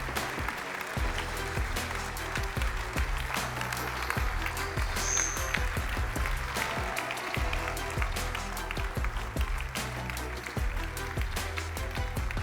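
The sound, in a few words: audience applause at centenary party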